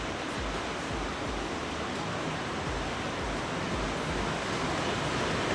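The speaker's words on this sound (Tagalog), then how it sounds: "sobrang lakas ang ulan" Heavy rain pouring outside a home with a leaking ceiling, a dense, loud, unbroken roar of water that holds steady throughout with no talking.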